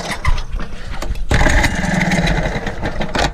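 An Eska 4 hp outboard motor fires up with the choke on after a pull, then settles into a loud, steady running drone up close.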